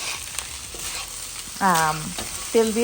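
Egg, carrots, peas and shrimp stir-frying in hot oil with sauces, a steady sizzle under brief talk, with two louder bursts of scraping and hissing as the pan is stirred.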